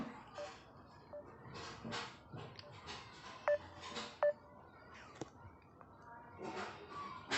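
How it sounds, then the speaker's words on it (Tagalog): Telephone keypad dialing tones for a prank call, a few short separate beeps at moderate level over faint room noise and low background chatter. "Next nating tatawagan si Raymond."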